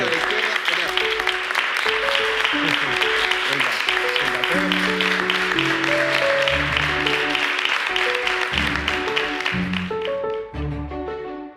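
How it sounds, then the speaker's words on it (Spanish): Audience applause at a motivational talk, a sustained round of clapping from a seated crowd that fades near the end. Tones and voices sound faintly beneath the clapping. "es la primera vez en mi vida que me aplauden por sentarme"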